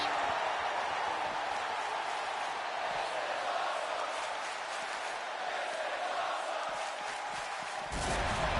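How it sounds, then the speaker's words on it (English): A virtual arena crowd roars in the WWE 2K25 wrestling game, a sustained dense wall of cheering and noise that swells again near the end, heard alone without commentary. "The crowd absolutely loving what they're seeing here today."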